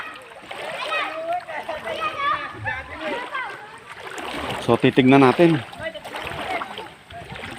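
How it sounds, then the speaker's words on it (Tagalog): Young people bathing in a clear provincial river, with scattered splashes of water beneath a nearby speaker's talk and other voices. "Ayun, ang daming mga kabataang naliligo."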